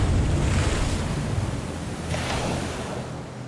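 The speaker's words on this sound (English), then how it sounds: "I just remember those waves, the sound of those waves." Waves roar on a river in a close, steady wash of rushing water with wind, a brief surge swelling near the end.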